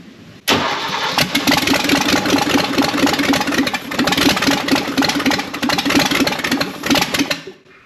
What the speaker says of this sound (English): Hey, my Gremlin runs.